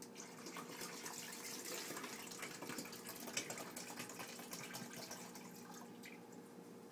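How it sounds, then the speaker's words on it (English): Water is poured into the back reservoir of a coffee pot, a faint, steady trickling splash close by with no voices over it. "pour the water in the back of the coffee pot"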